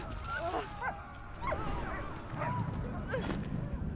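In the WWI game Soldats Inconnus: Mémoires de la Grande Guerre, a dog lets out a string of short yips and whines spaced across a few seconds, over a low rumbling game backdrop with some voice mixed in.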